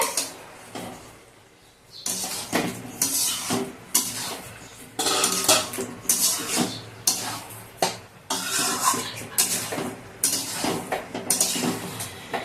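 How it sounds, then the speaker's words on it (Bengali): Chicken curry in a pot, a lid lifted off then a spoon stirring and scraping against the pot in bursts, with clanks of metal and a faint sizzle underneath, close and fairly loud. "এখন পাত্রটা খুলে একটু মানে মিক্সিং করা হচ্ছে।"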